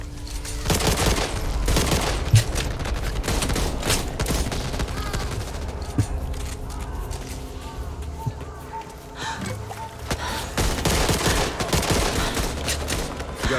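Rapid light machine gun bursts in the zombie shooter Back 4 Blood, repeated dense volleys of automatic fire over about thirteen seconds, with brief voices and game effects mixed in.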